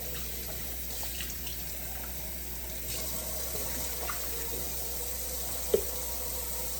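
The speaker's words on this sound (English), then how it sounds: "I hate washing cups." Running water from a sink tap pours steadily while cups and dishes are washed, quiet and continuous with a faint clink near the end.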